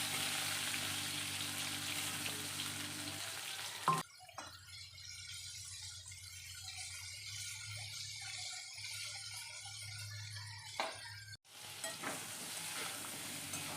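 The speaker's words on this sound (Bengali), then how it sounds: "পটল আর আলু একসাথে ভেজে নেব।" Pointed gourd and potato pieces fry together in a pan, giving a steady, close sizzle with occasional stirring scrapes; the hiss drops noticeably in the middle and then rises again near the end.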